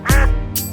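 A mother duck gives one sharp, close quack, loud and nasal, trailing off with a faint upper echo.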